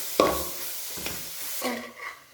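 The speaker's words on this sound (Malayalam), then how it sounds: "നന്നായി ഒന്ന് ഇളക്കി കൊടുക്കുന്നു." A spoon stirs ground masala through mutton in a pan for a Kerala mutton fry, giving a few distinct scraping strokes over a soft sizzle, close and brief.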